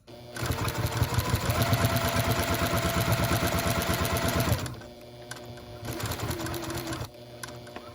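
A sewing machine stitches a baby girl quilt, running fast and steady for about four and a half seconds, then stopping before a short, quieter back stitch burst.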